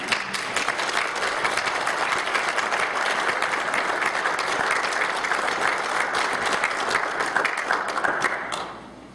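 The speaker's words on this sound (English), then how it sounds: "a warm round of applause" A large crowd applauds steadily and loudly for several seconds at a Tea Party meeting, welcoming a speaker, the clapping fading out near the end.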